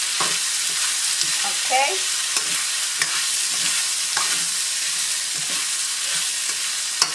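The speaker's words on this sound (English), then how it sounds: "So just stir fry all of your ingredients." Beef and broccoli stir-fry in a hot pan, giving a constant sizzle with scattered clinks and scrapes from stirring; a single short word is spoken.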